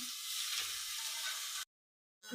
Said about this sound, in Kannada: ಇದು ಸ್ವಲ್ಪ ಫ್ರೈ ಆಗುತ್ತೆ.